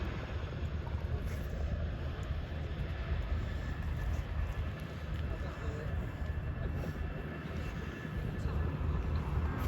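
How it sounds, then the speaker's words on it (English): Chinook tandem-rotor military helicopter flying at an RAF Cosford air display, a steady, loud, broadband rumble and whir that holds continuously throughout with no distinct breaks. "The raw power and versatility of the Chinook is all down to its iconic tandem rotor design"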